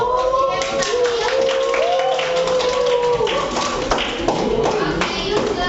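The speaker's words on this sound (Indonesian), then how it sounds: "kita beri semangat dulu dong, tepuk tangan dulu dong untuk kelompok 3" A class of teachers and students claps to encourage group 3 before their presentation, quick rhythmic clapping over faint background voices and some tonal chatter.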